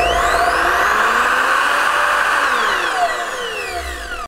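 An Evolution R255SMS+ miter saw motor spins up from rest to full speed, a loud steady whine with pitch sweeping upward across about four seconds, heard alone.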